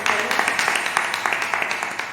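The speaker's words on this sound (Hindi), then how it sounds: "हालेलुया में जोरदार तालियों से परमेश्वर का स्वागत करते हैं" A church congregation claps loudly in welcome during worship, a dense, steady patter of many hands with a few sharper accents, close and sustained throughout.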